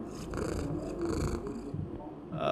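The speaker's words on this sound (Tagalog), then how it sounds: "Parang hindi normal yung pusa." A cat purrs close to the ear, a steady rumbling vibration that continues over background noise with a brief rise near the end.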